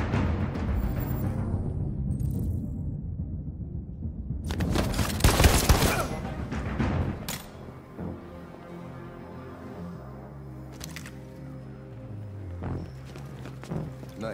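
A short, intense burst of gunshots in Detroit: Become Human cuts sharply through quieter ambient game sound, followed by a few fainter isolated shots later on.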